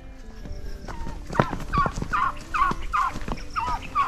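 A turkey gobbling close by, a run of five or six quick rattling gobbles in a row over faint background noise, with a few softer clucks before them.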